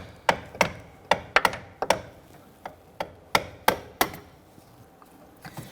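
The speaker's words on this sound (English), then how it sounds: "we'll tap that with the hammer, and we're going to literally just knock that clamp right off." A series of sharp metallic taps, about a dozen irregularly spaced hammer strikes knocking a one-time-use clamp off a 2006-2014 Honda Ridgeline steering rack bellows, close and fairly loud, with no talking.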